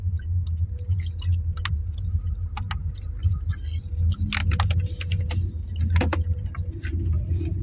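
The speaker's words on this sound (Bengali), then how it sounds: "এখন দাদাভাই গাড়ি চালাচ্ছে" A car is driven along a road, its low engine rumble steady underneath, with rattles, clicks and jangling keys inside the cabin and occasional voices.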